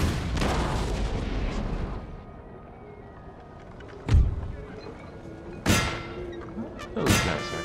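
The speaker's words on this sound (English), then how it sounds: "Artillery present." Cannons fire on a Napoleonic battlefield in the strategy game Napoleon: Total War, with three sharp booming shots spaced a second or more apart after a fading rumble of earlier gunfire.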